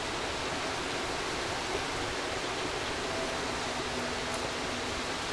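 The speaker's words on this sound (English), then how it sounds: "Grabe yung waterfalls." A waterfall in the video game Stray pours as a soft, steady hiss of rushing water, a constant wash of noise with no talking.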